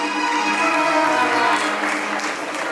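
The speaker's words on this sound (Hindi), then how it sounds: "तालियां।" Applause from an audience at a staged devotional play about Nemi and Rajul's renunciation at a Jain temple, a steady, dense clatter of clapping filling the space throughout with no voices.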